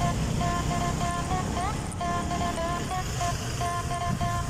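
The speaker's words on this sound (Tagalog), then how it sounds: "Traffic." Steady road traffic noise on a busy road during a ride, with a continuous low rumble of passing vehicles, faint tonal whines and occasional soft horn toots in the background.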